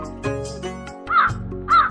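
A man's throat gives out crow-like cawing in a Hindi moral story after eating biryani, a voice imitating a crow with two loud, harsh caws over a steady background music bed.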